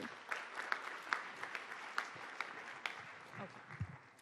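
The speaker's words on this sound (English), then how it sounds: "A warm round of applause, please." Applause in the ECOSOC Chamber at a UN senior-level meeting, a faint, thin round of clapping from a modest audience with uneven individual claps over a few seconds.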